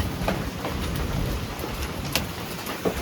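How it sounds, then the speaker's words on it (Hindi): Large hailstones pelt down in place of rain, falling on rooftops as a dense, steady patter with a few louder sharp impacts standing out. "इतने बड़े बड़े ओले गिर रहे हैं"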